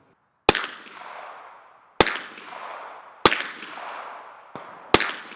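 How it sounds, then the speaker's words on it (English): Four sharp unsuppressed 9mm shots from a Glock 19 firing 115-grain rounds, spaced a second or so apart, each a loud crack followed by a long rolling echo fading out, no voices. "115 grain 9mm out of the Glock 19 once again"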